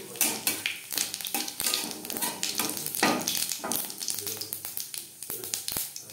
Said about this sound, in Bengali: বড়ি ভেজে নেওয়া তেলে দিয়ে দিলাম 1/2 চামচ গোটা জিরে